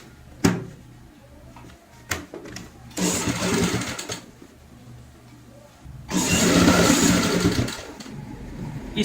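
Sewing machine stitching fabric petals onto a handmade door mat, running in two bursts: a short run near the start, then a longer steady whirring stretch later, with quiet handling clicks between.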